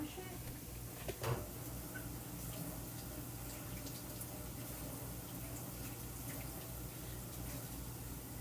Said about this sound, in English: Now, our celery. Go ahead and wash it.